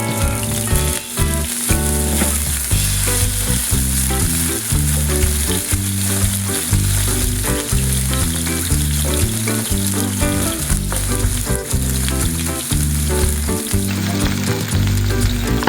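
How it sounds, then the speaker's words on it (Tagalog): Garlic sautés in hot oil in a pan for an ampalaya and corned beef stir-fry, giving a loud, continuous, close sizzle with crackling pops throughout and no voices. "Unahin nating igisa ang bawang hanggang sa mag-golden brown ito at lumabas ang bango"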